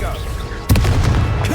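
Confringo fire-blast spell exploding in the Hogwarts Legacy game, a sudden loud booming blast that cuts in partway through over game background sound and voices, followed by a rumbling tail.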